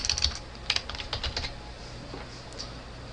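Keys tapped on a computer keyboard while entering text into a mobile app maker's design properties, a quick burst of close clicks that thin out, followed by a few scattered taps over a low background hum.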